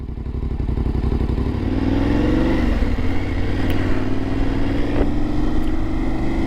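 BMW F850 GS Sport motorcycle being ridden, its parallel-twin engine droning loud and steady with rising revs and wind rush, heard from the rider's position.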